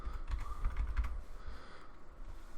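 Close, quiet clicking of keys on a computer keyboard, a short quick burst of typing at a terminal that trails off into a few lighter taps.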